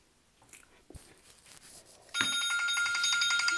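Phone alarm goes off abruptly and rings loudly and steadily with a bright, repeating electronic tone, following quieter handling clicks and a soft thump beforehand.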